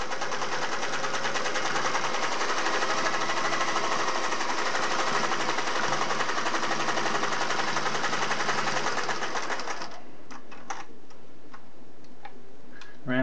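A Singer Model 401A sewing machine stitches over thick seams in a loud, fast, steady mechanical whirr with rapid ticking for about ten seconds, then cuts off into a few scattered clicks.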